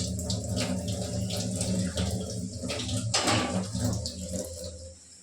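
Water poured into a cooking pot of chicken curry, a close steady splashing pour with faint clinks, no talking.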